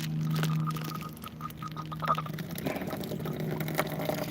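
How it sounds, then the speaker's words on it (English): Water from a solar hot water tap behind a shed falls into a biodigester, making a steady, low splashing pour with a faint hum underneath, fairly quiet and with nobody speaking. "we'll let that water fall down into the biodigester"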